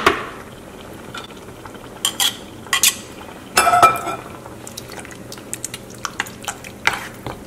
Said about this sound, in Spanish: Revolvemos para que se integre muy bien.